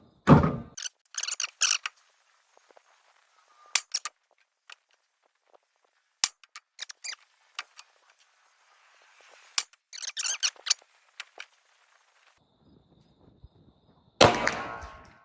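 Pistol shots ring out at a 50-yard outdoor shooting test, sharp reports spaced irregularly across the clip, some in quick pairs or clusters, with quiet gaps between and a final louder burst.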